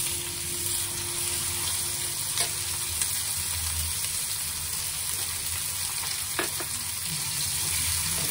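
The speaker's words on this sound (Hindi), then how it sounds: "अब हम इस प्याज को तब तक भुनेंगे जब तक ये ब्राउन ना हो जाए।" Onion fries in oil with carom seeds and asafoetida for masala bhindi, a continuous even sizzle with a few faint stirring clicks, close and steady with no speech.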